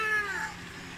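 A single short meow with a falling pitch, heard over soft background music, then trailing off.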